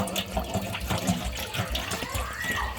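Water is poured into a pot for a Thai chicken-under-water dish: a loud, close, continuous gushing stream whose pitch climbs slightly as the pot fills.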